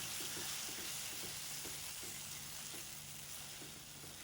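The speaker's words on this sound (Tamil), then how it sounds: "நீங்கள் நல்லா வதக்கி விட்டுட்டே இருங்க. ஏன்னா கிளறத்தான் எல்லாம் ஃபுல்லாக மிக்ஸ் ஆகும்." Garlic rice mixture sautéing in a pan for garlic rice, a soft continuous sizzle with faint scraping strokes of stirring, close and steady on its own.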